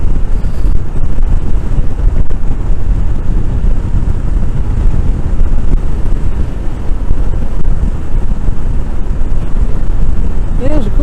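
Heavy, constant wind buffeting on the microphone while riding a Royal Enfield Scram 411 motorcycle past roadside bushes, a loud, steady roar from start to finish with a faint engine hum beneath it.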